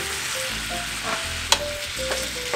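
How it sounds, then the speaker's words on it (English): Sausage browning in a brand-new pan while a wooden spoon stirs it, a steady close sizzle with occasional scraping knocks and one sharp clack partway through. "just make sure that you really brown your sausage"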